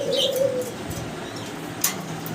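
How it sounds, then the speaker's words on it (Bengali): Black Mundian pigeons, a large pair, give a soft low coo near the start, with faint chirps and light background noise following. "দর্শক ভিডিও স্ক্রিনে আমরা দেখতেছি মুন্ডিয়ান ব্ল্যাক কালার এক জোড়া মুন্ডিয়ান আছে"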